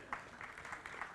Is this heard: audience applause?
yes